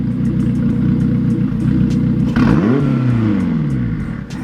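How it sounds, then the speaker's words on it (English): A turbocharged Honda Civic K20 engine drones at idle, then revs up sharply with a rising, throaty exhaust note through an open exhaust valve before settling back, close and loud. "the exhaust got louder with this turbo setup"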